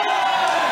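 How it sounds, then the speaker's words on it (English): Crowd at a hometown Muay Thai fight roars for fighter Nong Rose, a dense, steady wall of cheering voices throughout the short moment. "Crowd popping on Nong Rose"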